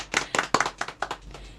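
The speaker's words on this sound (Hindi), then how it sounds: "तालियां इनके लिए।" A small group in a radio studio claps for the Miss Uttarakhand 2025 winner, a short run of distinct, close hand claps with an uneven rhythm and no talk.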